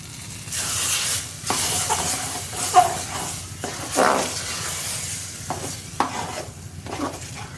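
Mash dal in a pot on a switched-off stove is stirred, giving repeated scraping and sloshing strokes at an uneven rhythm over a soft, fading sizzle.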